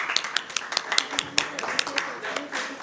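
Scattered audience applause at a physics conference session, a sparse run of individual claps at moderate distance with some background voices mixed in.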